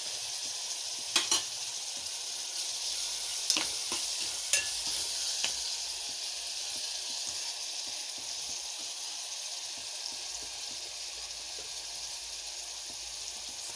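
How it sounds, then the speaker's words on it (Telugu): Sliced onions with ginger-garlic paste and salt frying in hot oil, a steady soft sizzle broken by a few sharp pops and stirring scrapes near the start, heard up close without talk. "సాల్ట్ వేస్తే ఉల్లిపాయల్లో తొందరగా వేగుతాయి"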